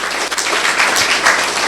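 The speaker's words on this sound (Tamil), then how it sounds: "கைத்தட்டுங்களை பார்ப்போம்" An audience at a talk applauds in a dense, steady wash of clapping hands that holds at a loud level for the whole short stretch, with no one speaking over it.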